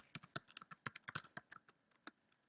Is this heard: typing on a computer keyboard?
yes